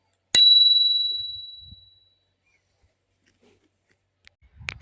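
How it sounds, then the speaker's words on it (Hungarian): A single bright bell ding from a Sencor X20 electric scooter rings out and slowly fades over about two seconds, followed by quiet handling noises. "és van egy csengőnk."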